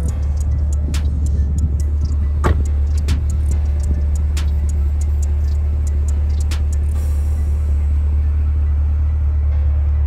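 Corvette C8 rolling slowly, a steady deep low engine rumble with faint ticking and a few brief clicks over it, constant and close throughout.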